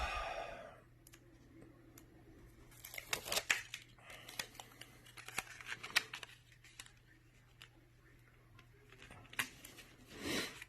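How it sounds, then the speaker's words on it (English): Adhesive backing is peeled off a mirror-like sheet in a series of sharp crinkling, tearing rips and small clicks, close and intermittent against a quiet background. "we're going to try and peel this backing off here"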